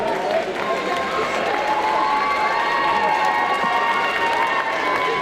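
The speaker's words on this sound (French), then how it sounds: "On applaudit très très fort les candidats" A convention hall crowd at a French fan-event selection applauds and cheers candidates, a loud, dense, sustained wash of clapping and shouts with voices mixed in throughout.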